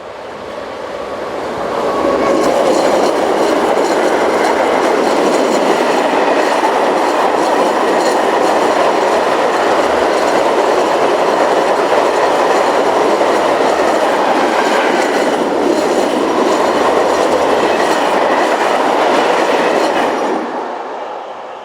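A French freight locomotive in green freight livery rounding a curve, its rumbling roar and clickety-clack of wheels swelling in, staying loud and close as the train passes, then fading away, with no talk.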